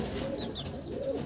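Abluk bloodline pigeons coo inside a loft, a brief, close, throaty rolling call repeating twice over a faint background hum.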